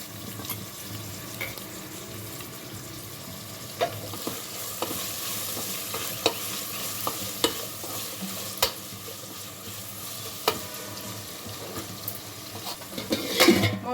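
Dry prawns and green chillies frying in hot oil for a gongura curry, a steady close sizzle with occasional sharp pops and crackles throughout, louder bursts near the end.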